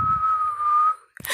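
A single sustained human whistle on one steady high pitch lasts about a second, imitating the call of a creature called the Tikwi, followed by a brief rustle.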